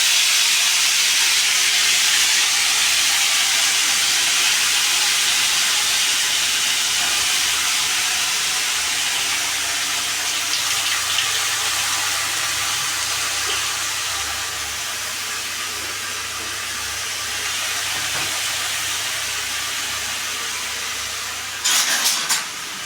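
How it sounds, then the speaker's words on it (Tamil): Continuous loud sizzle and hiss of chopped potatoes frying in a pan, close and steady, with a few clatters near the end. "இப்போ உருளைக்கிழங்கு பொடியாக நறுக்கி வச்சுருக்கதை போடுறோம்"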